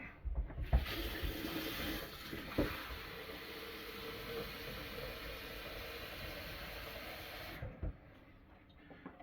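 Water pours steadily into the reservoir of a Morphy Richards espresso coffee maker, a continuous splashing hiss lasting several seconds with a few soft knocks at the start and end.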